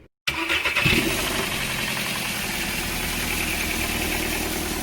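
A VW FSI car engine with a worn timing chain cranks and fires after a brief silence, then settles into a steady, close idle with a continuous rattling mechanical hum.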